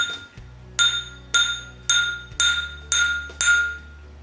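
A small hammer striking an eight-foot length of EMT steel conduit, seven bright ringing metallic strikes at a steady pace, each leaving a sustained resonant tone that decays before the next hit.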